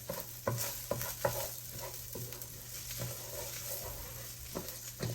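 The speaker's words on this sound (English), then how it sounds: "Keep stirring." Spanish rice fries in a pan, a steady soft sizzle broken by irregular scraping strokes of a spoon stirring the grains, close and fairly quiet, with no voices.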